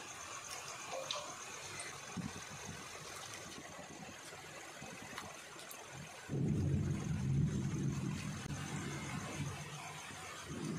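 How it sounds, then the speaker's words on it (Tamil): Pieces of podi cake drop into hot oil and set off a sudden, steady bubbling sizzle that fills the second half, after quieter kitchen background noise, with no talk. "இப்போ எண்ணெய் காஞ்சிருச்சு, அதை எண்ணெயில் போட்டு எடுத்துடலாம்."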